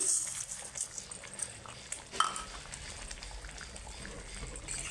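Chana dal boiling in a pot on a gas stove, a continuous close bubbling and gurgling with liquid splashes, moderately loud and steady throughout.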